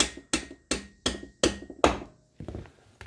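A hammer strikes a loosened motorcycle rear axle bolt to drive it out: six sharp metallic blows in an even rhythm, then a few softer taps, close up and with no talk.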